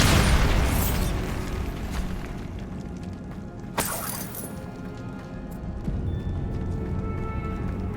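A Bombarda spell blast in Hogwarts Legacy: one sharp, loud explosive crack partway through, then a fading rumble and scattered debris sounds over low background.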